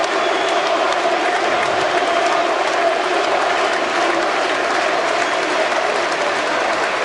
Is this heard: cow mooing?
no